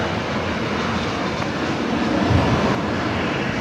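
An airliner touches down at Brisbane Airport, a steady loud broadband roar of engines and rushing air that swells slightly toward the end, with no talk.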